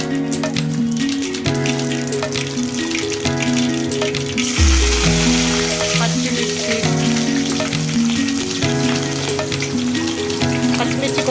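Mustard seeds and cumin fry in hot oil in a kadai for potato-tomato curry, giving a loud, dense sizzle that surges midway, heard beneath steady tonal background music.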